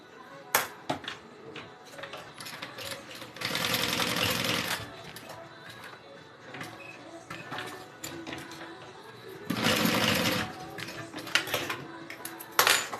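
Sewing machine stitching a box onto a backpack, with two short bursts of running stitches among scattered clicks, snips and handling noises of fabric and thread.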